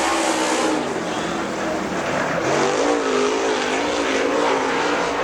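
A Super Late Model race car roars around the dirt track at Dixie Speedway, its engine a loud, steady drone with rising and falling pitch as it passes, with an announcer talking over the top.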